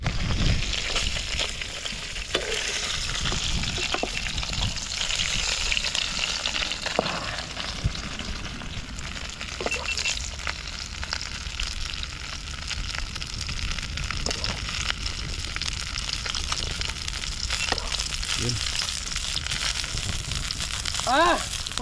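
Tilapia frying in oil in a pan gives a steady, loud sizzle and crackle throughout, with brief faint voices now and then.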